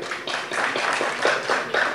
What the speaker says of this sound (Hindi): जोरदार तालियों के साथ मोहित शर्मा जी का आप स्वागत कीजिएगा।